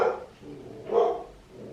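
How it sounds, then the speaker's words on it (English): Bella the dog barks at a doorbell, three loud, separate barks spaced about a second apart, close by with a quiet room between them. "Bella now barking her head off"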